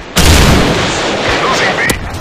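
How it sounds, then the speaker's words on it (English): A Predator missile strike in Modern Warfare 3 lands as one heavy, close explosion that booms suddenly and rumbles on for about two seconds, with game voice callouts mixed into the blast. "Predator missile inbound."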